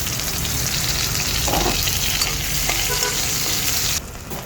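Garlic and onion frying in cooking oil for adobong kangkong, a loud, close, continuous sizzle with light stirring scrapes that drops abruptly in level near the end.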